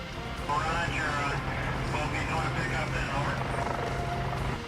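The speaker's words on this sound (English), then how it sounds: "We'll have the Dolphin helicopter come back around now to make a lift again" A steady Dolphin helicopter drone hums underneath continuous talking during a search and rescue exercise, its rotor noise constant and moderately loud throughout.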